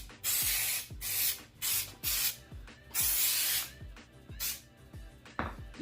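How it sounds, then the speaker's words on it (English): Aerosol headliner glue sprayed in several bursts of close hissing, each about half a second to a second long, with short pauses and light knocks of the can between them. "just spray down some of this headliner glue"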